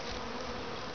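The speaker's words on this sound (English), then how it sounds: "This is my first swarm of the year" Honey bee swarm in April outdoors among tree branches, giving a dense, steady, close buzzing drone with no pauses.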